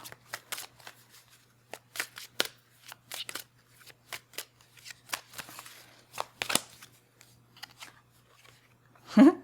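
Romance angel cards are shuffled by hand close up, a quick series of crisp riffling snaps and flutters in irregular bursts, with a faint steady hum underneath.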